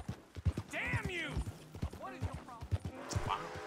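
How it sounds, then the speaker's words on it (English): A horse gallops in a video game with rhythmic, quick hoofbeats running throughout, while a person talks over the top. "I am but a humble horse galloper."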